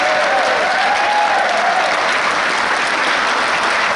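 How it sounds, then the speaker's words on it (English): Loud, dense crowd applause erupts at a Dublin book launch for Michael, a steady wash of many clapping hands at full volume throughout, with a faint tonal sound briefly woven in near the start. "a round of applause for Michael."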